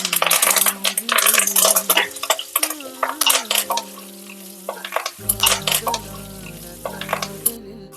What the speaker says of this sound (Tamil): நறுக்கி வச்சிருக்கிற சின்ன வெங்காயம் சேர்த்து சாஃப்ட் ஆகிற வரைக்கும் நல்லா வதக்கிட்டுக்கலாம்